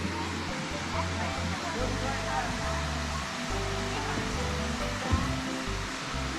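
A river waterfall roars steadily and loudly without a break, a dense continuous rush of water, with low bumps of wind or handling on the microphone and occasional voices beneath it.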